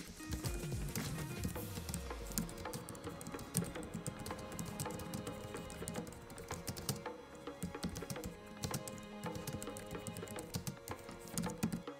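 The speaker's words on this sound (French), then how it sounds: "Je vais vous mettre un petit test de bruit quand je tape sur le clavier." Rapid, uneven clicking of keys being typed on a Logitech MX Keys wireless keyboard for Mac, close and continuous, with a short pause midway.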